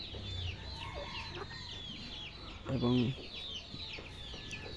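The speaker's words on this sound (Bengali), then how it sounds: "মুরগিগুলা বিভিন্ন দিকে ছুটাছুটি করতেছে" Farm chickens cluck and chatter while scurrying in different directions, with a busy bed of high bird calls, one louder nearby squawk in the middle, and a single spoken word.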